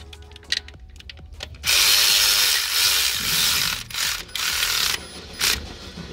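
A ratchet wrench slowly tightens the vacuum pump bolts on a 2008 VW Beetle 2.5l engine, making loud, close, sustained clicking runs broken by short pauses, with a few isolated clicks at the start.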